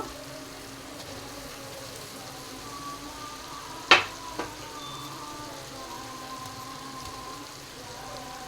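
Egg slices frying with softened onion pieces in a pan give a steady low sizzle, broken by one sharp clatter of something set down and a smaller knock just after.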